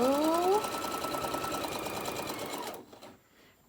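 Sewing machine stitching fabric for a chicken pincushion, a steady close mechanical whir running for a few seconds before stopping abruptly, followed by a brief pause and a small click.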